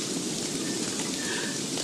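Steady, dense rain hiss from the video game Don't Starve, a continuous broadband wash of falling rain with no talk over it.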